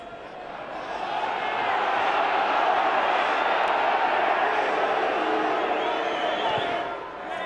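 Rugby crowd at a Gloucester versus London Irish match, a large stadium audience building into a loud sustained roar and shouting as a penalty kick is lined up, fading slightly at the end.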